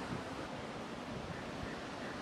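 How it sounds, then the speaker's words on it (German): Sea surf rolling below a hotel terrace in Kalutara, Sri Lanka, a steady wash of waves with some wind across the microphone, continuous and moderately faint, no voices. "Ihr seht direkt das Meer."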